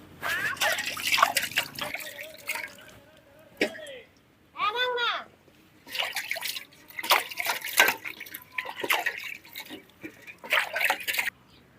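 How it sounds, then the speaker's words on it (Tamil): Water runs and drips over three drumsticks as they are washed clean, a broken, splashy trickle coming in bursts with pauses, close by, with a few clinks and a brief rising tone in between. "மூணு முருங்காய் போகுது சுத்தமாக கழுவி எடுத்துக்கலாம்"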